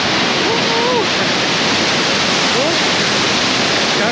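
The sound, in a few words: powerful waterfall in Crimea, Red Cave Kizil-Koba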